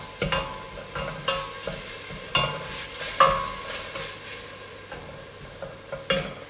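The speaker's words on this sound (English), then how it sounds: "Of blended seasoning. And you're going to let that saute for a little bit." Blended seasoning sautés in a pan for a Saint Lucian home-cooked dish, with a soft sizzle under repeated close scraping and stirring clatter from a utensil against the pan.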